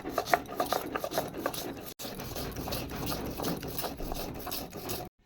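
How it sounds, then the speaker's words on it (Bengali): Black mustard seeds being ground on a stone grinding slab (shil-nora) while preparing a mustard paste for steamed hilsa, giving a steady, close rasping scrape with rhythmic back-and-forth strokes and a brief break partway through. "বন্ধুরা, এখন শিলনোড়াতে দিয়ে দেব কালো সর্ষে"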